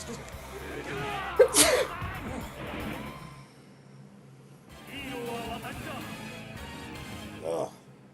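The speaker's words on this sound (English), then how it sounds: "So sorry about all this sneezing" Sneezing in a room: one sharp, loud sneeze bursts out early, followed by sighs and murmured reactions from a voice, then a smaller second sneeze-like burst near the end.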